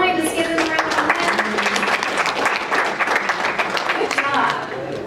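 An audience at a community planning meeting in Destin gives sustained applause, dense steady clapping that fades slightly at the end, with voices mixed in.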